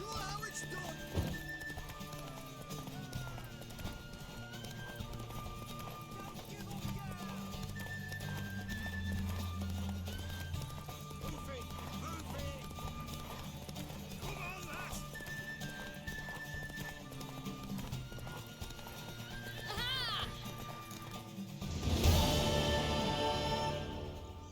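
Hooves clip-clop at a steady gallop amid game music and ambience in The Witcher 3: Wild Hunt, with a horse whinnying near the end; voices speak briefly.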